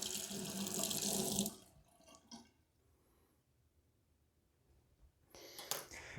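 A baby hair clipper being rinsed under a running tap, a loud rush of water into the sink that stops abruptly, then quiet drips, followed by a second short burst of running water.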